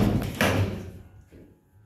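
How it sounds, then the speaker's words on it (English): A 1997 Otis 2000H elevator door in a mall car park in Patchway, Bristol slides open with a short mechanical whoosh and clunk, close by, then fades to a quiet hum. "Door's opening, going down. Door's closing."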